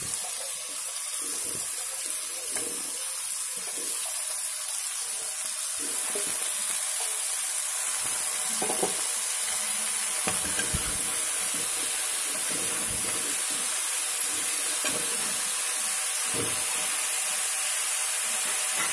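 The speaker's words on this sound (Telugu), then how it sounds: "ఇవి ఒక 2 మినిట్స్ వేగిద్దాం" Washed cauliflower florets fry in a pan for a matar gobi curry, producing a dense, steady sizzle and hiss that runs unbroken at moderate loudness, with a few faint clinks and no talking.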